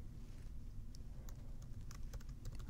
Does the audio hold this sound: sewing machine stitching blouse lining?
no